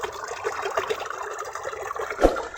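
Spring water spilling out from between rocks in a mountain setting near Naran, a steady soft trickle and splash running throughout with a brief louder gush near the end.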